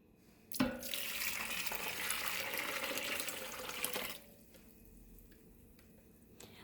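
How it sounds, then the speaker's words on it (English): A steady stream of water runs and splashes into a bowl of cut-up raw dog food for several seconds, starting abruptly and cutting off, leaving quiet background. "And the second thing I do is I'll add 7 cups of water."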